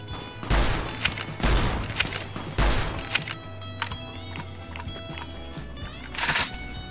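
Gunfire in the video game Fallout: New Vegas: several heavy, booming shots fire in an irregular series, close and loud, with clattering and ringing between them and a final burst near the end.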